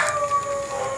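Dogs howling in long, wavering tones that hold steady and overlap, fairly loud, with no talking.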